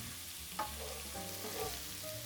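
Garlic frying in a generous pool of olive oil in a pan, a continuous close crackling sizzle with occasional stirring scrapes, fairly soft and without talk.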